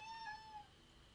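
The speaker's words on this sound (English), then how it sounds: "Do you guys hear my cat?" A cat indoors lets out a single short, faint meow, quiet and brief against a soft room hush.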